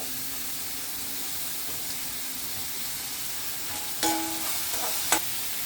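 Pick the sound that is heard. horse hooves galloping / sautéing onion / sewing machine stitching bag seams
sautéing onion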